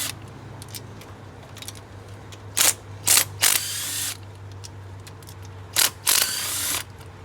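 A hand ratchet loosens 10mm bolts on a Volkswagen TDI engine. Five sharp, loud bursts of clicking pawl come in two groups over a low steady hum in a workshop.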